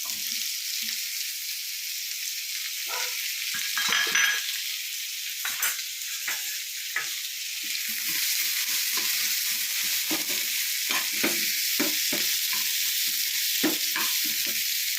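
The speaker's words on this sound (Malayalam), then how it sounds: "ക്യാരറ്റ് എല്ലാം കൂടെ നമുക്ക് ഒന്ന് വഴറ്റിയെടുക്കാം." Carrots and other vegetables are sautéed in a pan as chilli chicken is prepared, giving a steady oily sizzle broken by repeated scraping and stirring knocks from a spatula.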